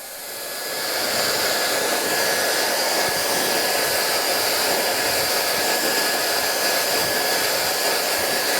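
A hair dryer blows hair dry at the roots, a loud, steady whooshing roar with a high motor whine that ramps up in the first second and then holds constant.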